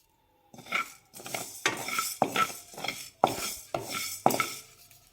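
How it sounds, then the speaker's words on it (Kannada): Coriander seeds dry-roast in a pan as a spoon stirs and scrapes them, giving a series of close, rhythmic scraping and clinking strokes roughly every half second, each with a dry rattling rustle and no talk. "ನಾನು 2 ಟೇಬಲ್ ಸ್ಪೂನಷ್ಟು ಧನಿಯಾನ ತಗೊಂಡಿದ್ದೀನಿ. ಕ್ಲೀನಾಗಿ ಇದನ್ನು ಹುರ್ಕೊಳ್ತೀನಿ."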